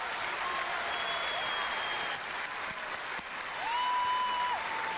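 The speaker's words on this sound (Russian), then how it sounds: "Аплодисменты!" Concert audience at the Novaya Volna (New Wave) festival applauding a singer on stage, sustained clapping throughout with faint tonal whistles and a slight swell toward the end.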